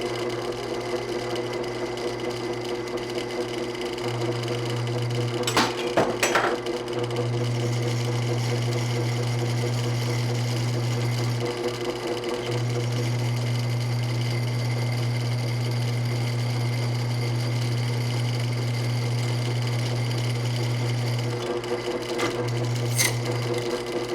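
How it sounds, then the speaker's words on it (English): A carbide cutter milling through hardened steel on a machine, a loud continuous droning hum with a steady grinding tone that pauses briefly a few times, plus a couple of sharp clanks. "this is a carbide cutter trying to go through hardened steel"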